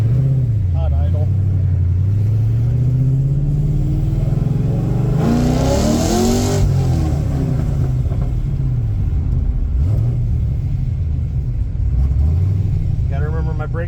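A hot car engine idles in a garage with a low, steady rumble that swells briefly as if revved, while someone talks over it.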